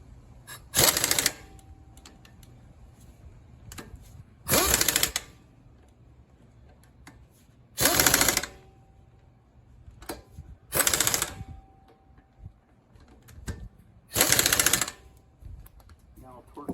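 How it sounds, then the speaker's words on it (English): A hand wrench tightens the 17 mm nuts on a road wheel, sounding as five separate bursts of ratcheting clicks spaced a few seconds apart, with quiet pauses between them. "So I'm gonna set this probably down a little bit because I'm gonna torque it by hand."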